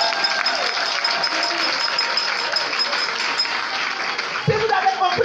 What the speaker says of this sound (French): Si vous avez compris, applaudissez un peu.